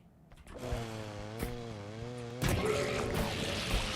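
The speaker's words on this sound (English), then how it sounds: "Oh, there's a chainsaw." Chainsaw in a horror video game roars steadily at close range, its engine note wavering, then growing rougher and louder partway through as it bites in, with no talking.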